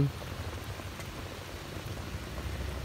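Heavy rain from Typhoon Uwan pours down in a steady, dense broadband hiss that stays loud and even from start to finish, with no voices.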